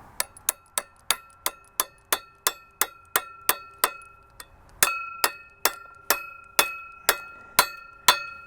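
A wooden wedge is tapped into a broadfork handle using a wrench as a hammer, giving about twenty sharp, ringing metallic taps in a steady rhythm, close and clear with no talk.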